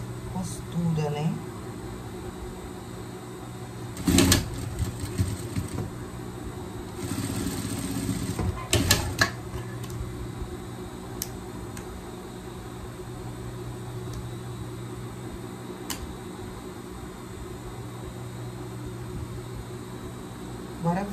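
A sewing machine topstitches a seam on a pet bikini in two short whirring runs, one brief and one longer, with quiet stretches between them.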